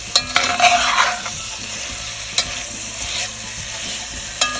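Kielbasa hash with garlic and vegetables is stirred in a cast iron skillet, with a close, steady sizzle and a few sharp scrapes and knocks of the utensil against the pan.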